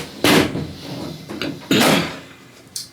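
Bathroom doors in a cruise ship cabin on an older, not-yet-updated Royal Caribbean ship opening and closing: two solid bumps with a rattle between them and a short knock at the end, heard close up.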